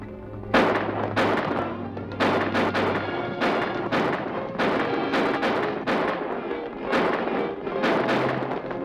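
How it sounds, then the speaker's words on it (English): Gunshots fired as warning shots in a western film, a rapid series of loud sharp bangs, some in quick pairs, spread evenly over several seconds with no talking between them. "Let's go now, but don't shoot to hit him."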